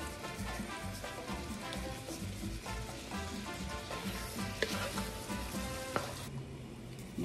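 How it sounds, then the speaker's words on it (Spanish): Meat cooking in sauce in a pan for Puerto Rican piononos, with salt just added. It sizzles and crackles steadily up close, with a few sharp utensil clicks on the pan near the end. "Vamos entonces a cocinar la carne hasta que se le vaya ese color rojizo y esté bien cocida"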